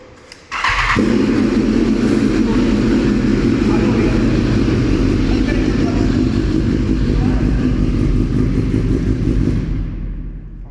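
A superbike engine is started for a decibel test, firing up abruptly after a short pause and then holding a loud, rough, steady rev close by for about ten seconds before tapering off.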